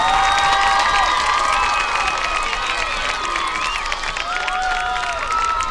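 A large crowd at a high school football homecoming cheers and applauds the 2023 homecoming queen, with sustained shouting, whoops and high-pitched screams over continuous clapping.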